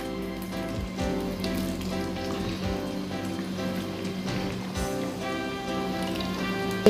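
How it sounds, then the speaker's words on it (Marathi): French fries deep-frying in hot oil on a low-to-medium gas flame, a steady dense crackling sizzle that holds evenly throughout with no talk. "आता आपण ते तळून घेऊया. फ्रेंच फ्राईज तळून घेऊया."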